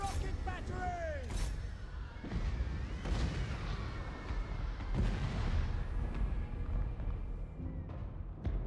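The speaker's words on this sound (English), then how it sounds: "Hellstorm rocket batteries!" Hellstorm rocket batteries firing in a strategy video game, a volley of whooshing launches and booming impacts under a busy battle din, with voices calling out over it.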